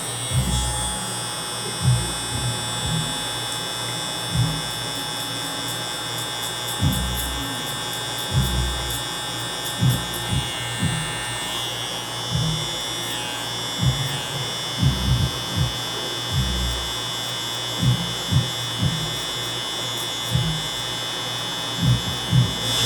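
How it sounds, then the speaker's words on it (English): Electric hair clipper buzzing steadily through a haircut at a barbershop, a constant close motor hum with brief bursts and pops as the blades pass through hair. "See how I'm holding the clipper?"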